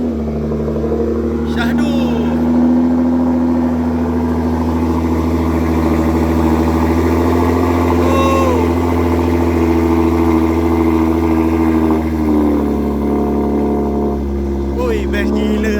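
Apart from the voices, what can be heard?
Nissan GTR R35 engine starting and idling, modified exhaust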